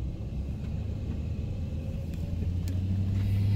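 A van driving on an open road, a steady low rumble of engine and tyres heard from inside the cab, continuous and fairly loud with no talk.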